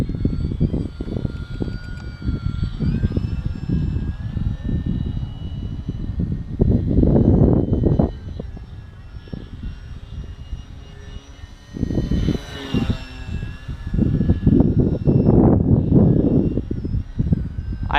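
A small foam FT P40 radio-controlled plane buzzes through the air, its electric motor droning and rising and falling in pitch as it passes nearer and farther across the sky, with no talk.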